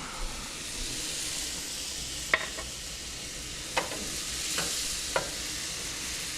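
Chopped onion added to melted butter in a hot pan sizzles with a steady hiss, punctuated by a few sharp clacks of a utensil against the pan, no one speaking.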